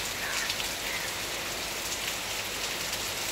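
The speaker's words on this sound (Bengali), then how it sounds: "বলতে বলতেই জোরে বৃষ্টি এসে গেছে" Heavy rain pouring down steadily on surfaces outdoors, a dense, even roar of drops without pause, close and loud with no voices.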